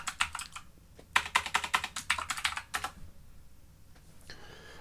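Quick, close clicks of a computer keyboard as a name is typed into a web chat dialog box, in two short bursts of rapid keystrokes separated by a brief pause, with no speech.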